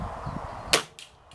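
A Hatsan Galatian air rifle fitted with a silencer fires a single short muffled crack, followed by a faint secondary click, close by against quiet outdoor background noise.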